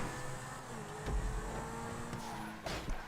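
A car in a GTA driving game brakes with a tire squeal, a faint engine hum underneath and a couple of short skids near the end.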